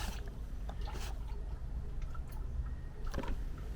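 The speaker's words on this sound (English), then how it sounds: "That sounds like oil coming out." Steady, close trickling hiss of oil draining from a Jaguar XJ 2.7 TDVi diesel engine, with a few faint clicks and knocks over the flow.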